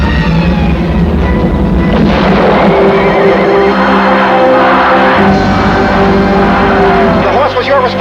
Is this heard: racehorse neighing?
yes